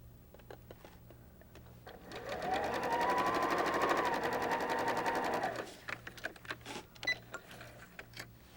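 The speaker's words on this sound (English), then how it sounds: "So we'll just lay that right there, sew onto it." A sewing machine stitches quilt pieces for strip-pieced hexagons and triangles, running in one steady, close, rhythmic whir for about three seconds between quieter handling clicks and taps, with no talking.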